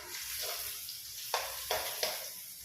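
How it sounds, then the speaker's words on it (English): Onions frying in a pan for spicy egg ramen, a steady close sizzle punctuated by three sharp bursts as the pan is stirred or tossed. "So I'm just frying off the onions"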